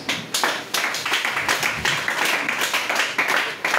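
A church congregation claps in acclamation of Jesus during a worship service, a dense, continuous patter of many hands close by, steady and rhythmic for several seconds.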